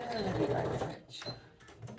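Sewing machine running while quilt rows are joined, with a short back stitch, heard as a busy mechanical whirr that eases off midway and resumes more softly, with some talking over it.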